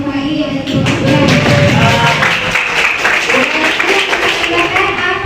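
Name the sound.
applause for a student in class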